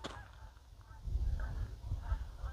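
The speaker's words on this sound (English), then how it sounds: "there's a lot of geese around here. I don't see them, but I hear them." Geese honk in scattered calls at a distance near a hot springs in Boulder, Montana, faint bursts repeating over a low rumbling background.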